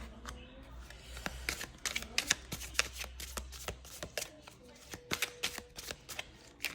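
Tarot cards are shuffled and drawn by hand, a quiet, close series of crisp riffling snaps and soft slaps in an uneven rhythm with brief pauses between bursts.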